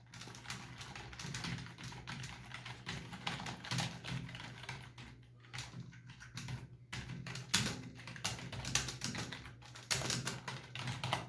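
Rapid typing on a POWERGATE KM A7 backlit USB gaming keyboard, a steady clatter of close keystrokes with brief pauses, running alone throughout with a low hum underneath.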